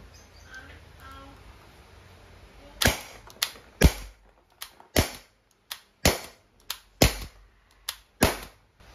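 An Umarex T4E TR50 CO2-powered tactical revolver fires about ten sharp shots in an irregular rhythm, each crack followed by the ring of a struck metal plate, loud and close with quiet gaps between.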